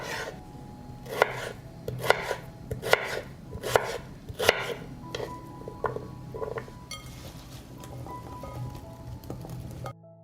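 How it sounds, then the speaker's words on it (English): A knife chops raw potatoes into small cubes on a cutting board, a run of close, crisp thuds in a steady rhythm through the first half, then lighter scattered taps and clinks, with no talking. "I cut the potatoes into small cubes so that they are baked quickly and get a nice golden crust."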